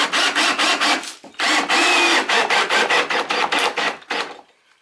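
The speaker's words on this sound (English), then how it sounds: "All right, and then just drive a screw in." A power drill drives a screw into a shower base in short, rapid ratcheting bursts with a brief pause, then one final burst before it stops, loud and close.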